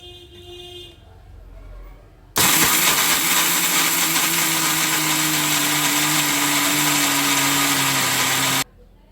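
A Bosch mixer grinder starts abruptly and runs at a loud, steady high-speed whine with a grinding rasp for about six seconds before cutting off, after faint background sounds.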